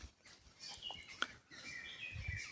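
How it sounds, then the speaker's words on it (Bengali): Birds call and chirp in a forest, with several short bright calls and a few sharper tweets over quiet rustling background, fairly faint and without any talking. "এই যে শুনুন, পাখির ডাকগুলা শুনতে পাচ্ছেন আপনারা।"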